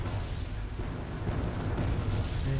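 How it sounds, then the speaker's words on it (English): Mortar fire in the video game Wargame AirLand Battle: a dense, continuous low rumble of distant blasts that runs steadily throughout, with no single sharp crack standing out. "here come the mortars"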